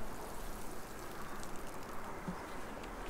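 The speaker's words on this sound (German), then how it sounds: "Dann einmal gießen." Plants being watered in the video game Wylde Flowers: a steady, soft hiss of pouring water that runs evenly throughout.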